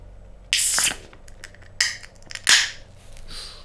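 A canned Big Drop Brewery Pine Trail Pale Ale, dropped in its box beforehand, is opened and foams over with a sharp hissing burst, followed by further sputtering spurts of fizz.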